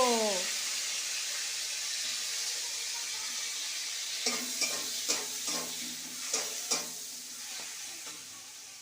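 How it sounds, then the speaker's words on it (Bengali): Prawns frying in oil in a pan, a continuous hiss of sizzling joined midway by a run of sharp spatula scrapes and clinks, close by, after a brief voice at the start. "চিংড়ি কটা ভেজে নেব।"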